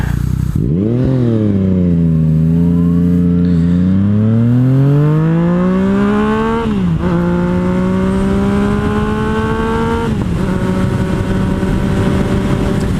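A 2017 Yamaha FZ09 (MT09) motorcycle revs loud and close, its engine note climbing steadily through the gears at about quarter throttle with two brief dips at shifts.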